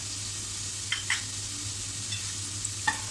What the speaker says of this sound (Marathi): हे सुद्धा छान असं आपण परतून घेऊ